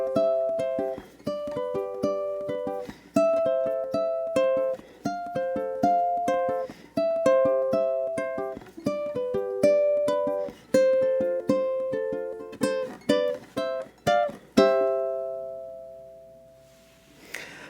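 A solo ukulele plays an eight-bar chord progression with strummed and plucked chords in steady rhythm, close and clear, finishing on a last chord that rings out and fades.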